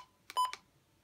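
A WR-120 weather radio's button gives a quick pair of short electronic beeps, close and clear against near silence.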